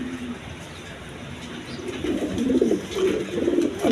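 Domestic pigeons, a male and female pair kept for sale, coo repeatedly at close range in soft rhythmic bursts that grow louder toward the end, with faint background noise and no talking.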